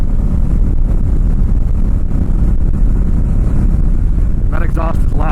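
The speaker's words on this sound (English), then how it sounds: "That exhaust is loud. Sounds good. It's pretty loud on the highway." An Indian Scout Bobber Sixty ABS motorcycle exhaust rumbles loudly while riding on the highway, a continuous low engine drone mixed with heavy wind buffeting, with a brief voice near the end.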